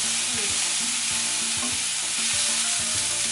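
Onions stir-fried with soy sauce in a pan for japchae noodles give a loud, steady sizzle, broken by repeated scraping and clinking of a utensil stirring against the pan, with no talking.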